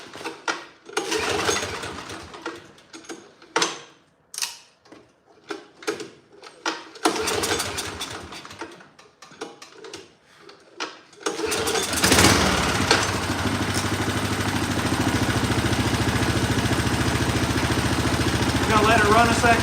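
A repaired snow blower's small engine starts after some clattering handling noises, then runs steadily at a loud, close idle while warming up, with a voice briefly heard.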